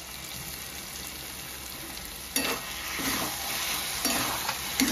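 A spoon stirs a ground mustard, poppy seed and coconut paste into taro stolons in a pan over a soft steady sizzle, with a few louder scraping strokes in the second half.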